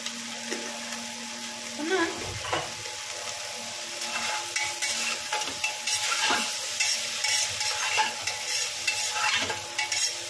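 Spices such as turmeric and ground coriander being stirred in a cooking pan, with a steady sizzle and repeated scraping strokes of a spoon close by, a faint voice now and then, and a continuous hum underneath.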